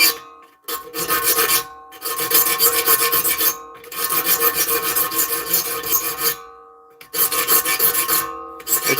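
Saw blade teeth being sharpened with a file: rhythmic rasping strokes, each a second or two long, separated by short pauses, loud and close with no voices.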